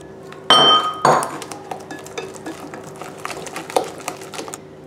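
Eggs and sugar are mixed in a salad bowl for a chocolate-apple cake batter: a loud clink of utensils on the bowl opens, followed by a run of lighter scraping taps and clinks.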